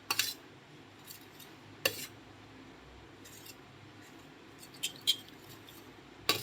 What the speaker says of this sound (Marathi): तर डाळ आपल्याला अशी घोटून घ्यायची.